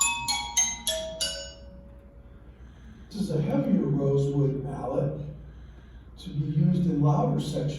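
A few bright, bell-like strikes on a stone lithophone with a heavier rosewood mallet ring out and decay, followed by someone talking.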